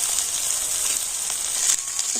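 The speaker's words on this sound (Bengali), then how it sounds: "এখন আমি পেঁয়াজটা একটু লাল লাল করে ভেজে নেব" Chopped tomatoes sizzling as they go into onions frying in a pan, a steady close hiss running throughout with small crackling pops.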